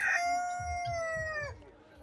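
Large desi rooster on a poultry farm gives one long, loud, close crow with a drawn-out tone that fades out over about one and a half seconds, with soft low rumbling underneath.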